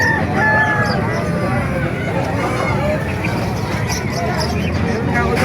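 A rooster crows amid a loud, constant din of clucking fowl and crowd chatter at a chicken market in Calumpit, Bulacan, Philippines, with traffic noise blending into the background.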